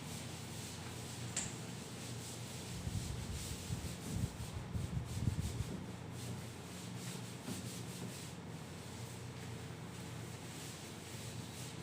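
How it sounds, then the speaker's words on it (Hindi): An eraser rubbing out writing, a faint scrubbing that swells into a few quick rubbing strokes in the middle, set against quiet background hiss. "इसको मैं रब कर देता हूं"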